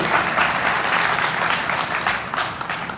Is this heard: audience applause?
yes